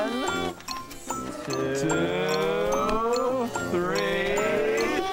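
Several sheep bleat in overlapping, wavering cries, with a voice speaking briefly among them.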